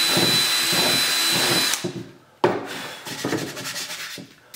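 A drill bores a hole in wood, a loud steady whir that breaks off, then returns in shorter bursts with grinding and rubbing scrapes, with no one speaking.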